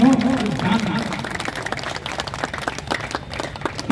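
A crowd claps in a scattered burst of applause at a speech on Dr. Ambedkar, with a voice speaking at the start and end.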